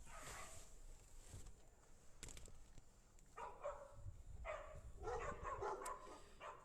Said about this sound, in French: les chiens les aboient.